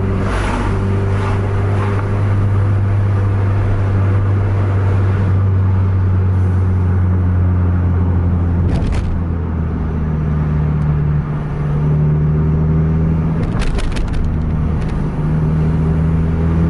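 A bus engine revving at full throttle, a loud, continuous low droning roar with strong steady tones that shift slightly partway through, plus a few brief rattles.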